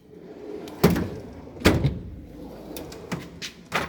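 Drawers of a new tool chest sliding and thudding shut, several sharp metallic slides and bangs spaced about a second apart, close and fairly loud, with no talking.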